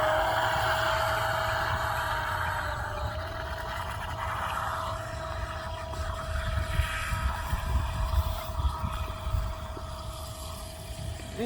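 A toy boat converted to radio control and running on a 3S lipo whines steadily at a distance, its small motor holding a constant tone over wind and water noise, with the pitch rising slightly near the end.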